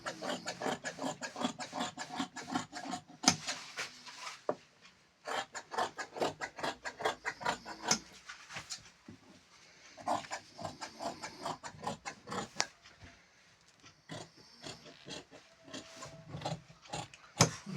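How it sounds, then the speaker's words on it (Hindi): Fabric being cut for tailoring a garment, heard as close, repeated rasping strokes in irregular bursts with short pauses between runs. "आइए कटिंग कर लेते हैं।"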